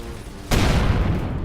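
Spaceship guns in the space game Avorion open up with a sudden loud burst after a quiet hum, then keep rattling in a dense volley for about a second.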